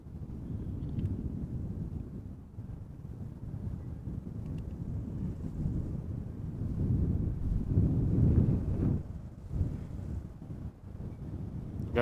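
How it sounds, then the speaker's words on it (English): Wind buffeting an outdoor camera microphone at Amsterdam Schiphol airport, a continuous low rumbling roar that surges and eases in gusts, with no voices. "Wind is picking up a little bit."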